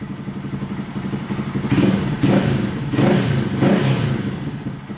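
A 2022 Honda Grom with an aftermarket camshaft and flashed ECU idles close by, then is revved in four strong, evenly spaced blips that rise and fall, with no talking.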